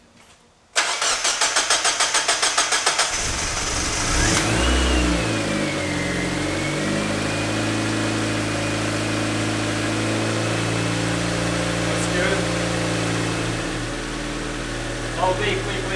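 Turbocharged NB Miata engine starting for the first time: a fast cranking stutter catches into a loud revving start, then settles into a steady close idle while people talk nearby.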